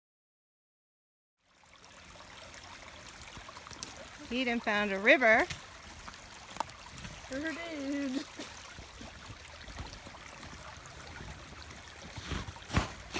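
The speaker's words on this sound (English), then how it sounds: "That little stream is not usually running this strongly, but there's a lot of snow melt." A small forest stream running strongly with snow melt, a steady close wash of flowing water under brief speech from a couple of people partway through.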